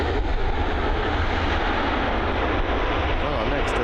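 An aircraft engine roaring at Dublin Airport, a steady broad rumble that stays loud and unchanging throughout, heard from nearby.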